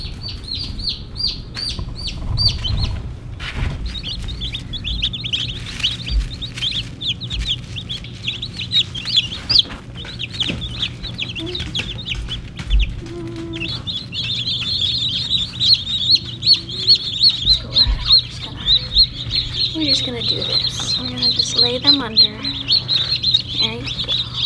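Baby chicks being moved into a brooder peep continuously in high, shrill chirps, growing busier and more crowded toward the end, with occasional handling noises.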